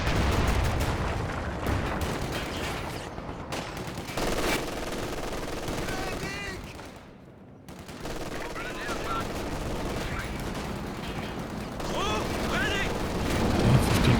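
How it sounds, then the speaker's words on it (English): Artillery shells and gunfire from the real-time strategy game Company of Heroes 2, in a 2v2 match: dense, continuous battlefield booms and machine-gun bursts with a brief lull midway, loud and busy, with occasional voices mixed in. "allowing a few hits from the zeroing artillery"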